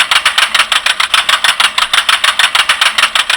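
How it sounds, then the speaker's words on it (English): A big farm tractor engine pulling a trailer of supplies, a loud close-up diesel chug with a fast, even rhythmic pulse throughout and no talking. "This big tractor is bringing trailer full of supplies to the farm."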